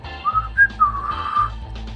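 A person whistles a short, wavering tune of a few rising and falling notes over a low rumbling background, close and fairly loud, with no talking.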